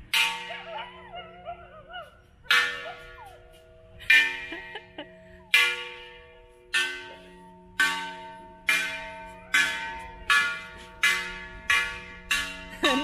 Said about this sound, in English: Someone's just started beating that gong over there.